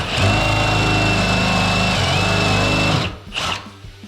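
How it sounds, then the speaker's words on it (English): A power drill bores straight down into a wooden stair tread while replacing balusters, a steady loud whirring motor for about three seconds before it winds down, then a brief second burst. "we want to make sure to drill straight down,"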